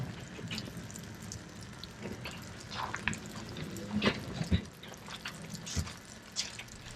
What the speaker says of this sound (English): it's pouring the rain down